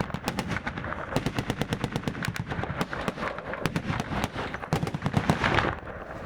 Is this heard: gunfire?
yes